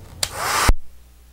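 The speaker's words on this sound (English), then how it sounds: "So let's get this dryer out." A hair dryer whirs on with a loud, steady airy roar for about half a second, then cuts off abruptly, leaving quiet.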